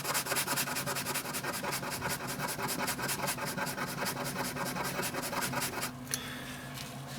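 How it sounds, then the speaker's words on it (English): Steady, rhythmic scraping of solid silver bracelet metal against a test surface, rapid repeated rasping strokes close up for several seconds before stopping abruptly, with a faint clatter at the end. "I'm going to test the bracelet itself, which is made of solid silver, and I'm going to leave some scraping of the metal here."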